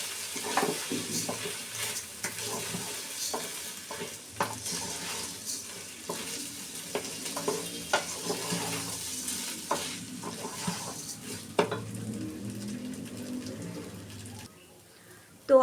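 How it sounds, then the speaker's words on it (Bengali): Rice grains frying in a pan for pilaf, stirred with scraping, rustling spatula strokes over a low, soft sizzle, with faint clinks of utensils. "এরপর আমি চালগুলো ভেজে দিচ্ছি"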